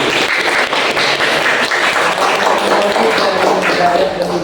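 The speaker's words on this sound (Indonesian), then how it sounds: "mungkin tepuk tangan dulu ya untuk teman-teman yang sudah bertanya tadi" Audience applause in a room after a question session, dense continuous clapping, loud and close, lasting the whole stretch with a few voices mixed in.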